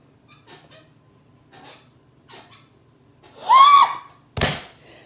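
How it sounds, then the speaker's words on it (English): A squeaky chair shifts, giving one loud rising squeal followed by a sharp knock, with a few soft rustles before it. "I think all my chairs squeaky."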